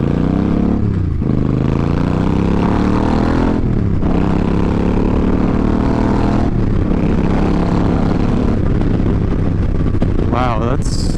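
A Suzuki Boulevard M50 cruiser motorcycle roars close and loud on a test ride, its engine climbing in pitch and dropping at each gear change, with wind rush over it.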